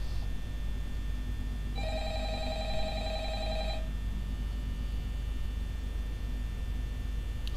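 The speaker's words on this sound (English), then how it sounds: "Answer the goddamn phone then" A telephone ringing in the video game Five Nights at Freddy's, giving a single electronic ring burst lasting about two seconds over a steady low fan-like hum and background noise.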